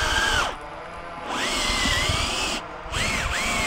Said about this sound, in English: A cordless drill is much cheaper.